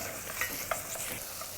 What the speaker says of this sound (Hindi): यहाँ पर कीमा डाल के तो भूनना कंपलसरी है साहब